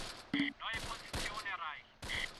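Gunfire in the WWII tactics game Close Combat, set in fog around St. Barthelemy, 1944: a few sharp distant shots and bursts spaced over a couple of seconds, with crackling battle noise between them.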